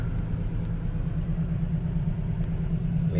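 A Ford Econoline E250 van engine idles with a steady low rumble, close and continuous with no talking.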